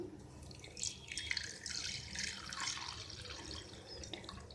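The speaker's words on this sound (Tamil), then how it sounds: "இதில் நம்ம தேவையான அளவு தண்ணி ஊற்றிக்கலாம்" Water pours into a pot already holding palm jaggery and sugar for palm jaggery coffee, a steady close splashing trickle that swells and settles over a few seconds, alone without speech.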